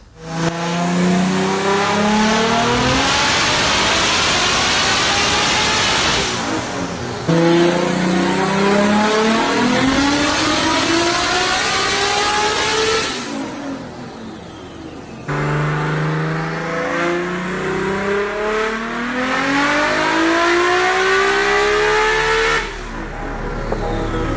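A 1300-horsepower Toyota Supra engine on a dyno, roaring through three long sustained pulls with rising pitch, very loud and close, each run cutting off abruptly.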